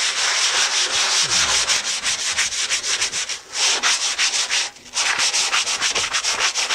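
Steady rhythmic sanding scrapes rust from a quarter-inch steel plate, close and loud, with fast repeated strokes and two brief pauses.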